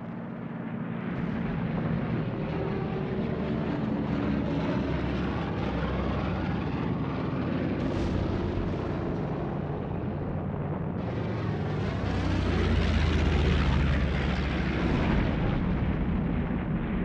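Japanese bombers and torpedo planes roar overhead in a wartime battle reconstruction of the attack on Malaya and Singapore, a dense continuous engine drone with rumbling blasts, swelling louder near the end, with no voices.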